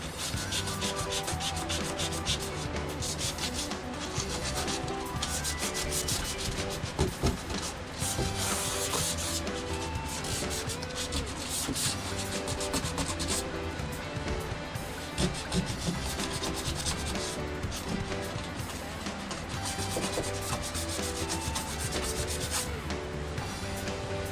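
Wood is rubbed steadily by hand with sandpaper, touching up spots a power sander missed; a continuous, close scratchy abrasion runs the whole time with no talking.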